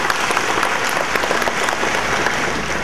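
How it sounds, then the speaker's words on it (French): A hall at a graduation ceremony fills with dense, sustained clapping from a large crowd cheering graduates, loud and even throughout without any talk. "Acclamons encore une fois les gradués"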